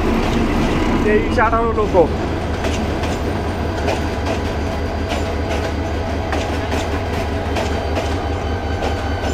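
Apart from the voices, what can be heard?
Balaka passenger train passing, arriving from Dhaka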